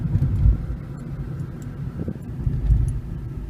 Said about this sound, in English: Especially like when I want to downshift for more power, I have to skip gears often.